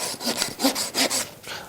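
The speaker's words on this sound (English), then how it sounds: "I'll only be taking just a few rasp strokes here" A rasp files a dressage horse's hoof on the lateral side in a few close, loud, rough strokes, each a scratchy grinding rub, with no talk.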